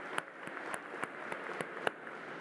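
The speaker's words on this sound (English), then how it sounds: "Would you please join me in another round of applause for the talented student a cappella group Euphoria?" An audience claps for a student a cappella group at a university convocation ceremony. The applause is fairly faint, with steady scattered claps and a few sharper ones.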